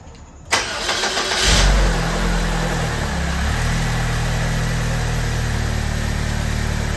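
A Saab 9-3 2.0T engine cranks and catches about a second and a half in, then settles into a steady, loud idle that runs to the end.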